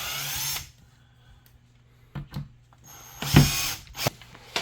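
A power drill tightening screws on a truck speaker box fitted with Kenwood 6x9 speakers behind the seat, heard in loud close whirring bursts separated by quieter gaps and small clicks.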